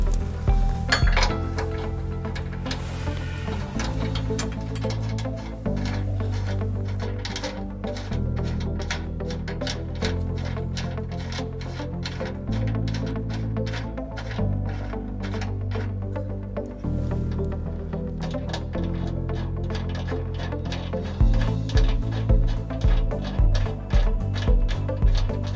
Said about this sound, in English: we're going to install the provided hardware into the two bolts here that are on either side of the frame